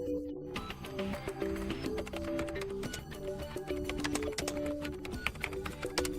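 Rapid clicking of computer keyboard keys being typed, a dense run of close, quiet taps throughout, with faint tonal sounds in the background.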